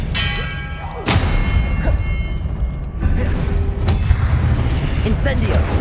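The Expelliarmus disarming spell is cast in Hogwarts Legacy, with sharp thuds and booming hits with ringing, tonal tails landing about three times over continuous game noise and a voice.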